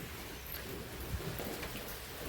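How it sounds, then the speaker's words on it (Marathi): Steady rain falling, a soft continuous hiss of drops with no voices. "पाऊस आला आहे म्हणजे कालपासूनच येतो आहे"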